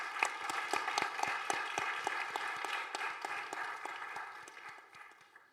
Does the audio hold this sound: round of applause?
yes